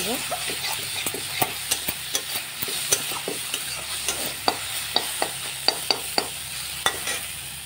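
Onion and tomato stir-fried in a pan in a home kitchen, with a steady sizzle under repeated sharp scrapes and clinks of a stirring utensil, close and fairly loud, no talking.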